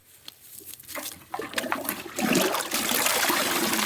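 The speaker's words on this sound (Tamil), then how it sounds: "இதில் கொஞ்சம் ஊற்று." Liquid poured into a cup or container during a casual shared pour, a continuous splashing trickle that builds in loudness and fills out toward the end, with no talk over it.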